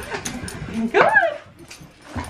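A frightened puppy lets out a brief, rising whimpering yip, close and fairly loud, amid faint household background noise.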